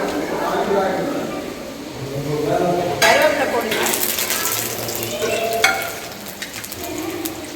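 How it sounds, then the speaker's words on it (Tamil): Mustard seeds spluttering in hot oil for a prawn curry in a home kitchen, a steady sizzle with sharper bursts of popping crackles, heard under a voice talking throughout. "லேஸாக ரெண்டு கடுகு போட்டு பாருங்கள் பொறிஞ்சிச்சுன்னா என்ன சூடாயிருக்குன்னு நம்பலாம்"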